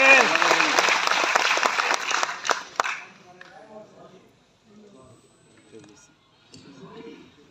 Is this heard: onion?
no